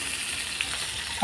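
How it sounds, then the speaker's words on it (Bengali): Pakal fish shallow-frying in hot oil makes a steady, even sizzle with a faint crackle, close by and moderate in level, over a very brief stretch with no voices. "আমি মাছটা কিন্তু খুব ভালো করে ভাজবো না, এরকম আধা ভাজা করে রেখে দেব"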